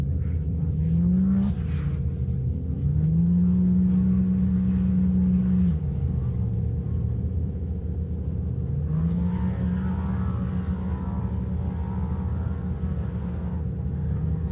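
Off-road race car at the St George 399 pulls away with rising engine revs, a couple of long gear-held pulls over a constant rumble, moderately loud, with commentary running over it.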